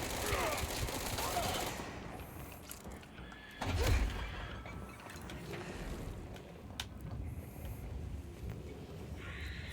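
Scattered gunfire and mechanical clatter from the video game Control, bursts and sharp shots at moderate distance with a heavy thump near the middle, amid shifting ambient noise.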